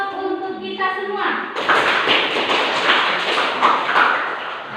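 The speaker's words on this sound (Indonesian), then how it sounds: "Kita beri aplaus untuk kita semua." Classroom applause from a group of students, a broad dense wash of clapping that starts abruptly and carries steadily to the end, following a brief harmonic voice or tone at the start.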